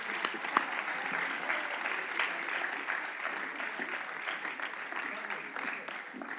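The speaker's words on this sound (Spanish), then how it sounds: "Y aplaudir, porfa" A graduation audience at a high school diploma ceremony applauds, continuous even clapping from many people, moderately faint and sustained, without clear speech over it.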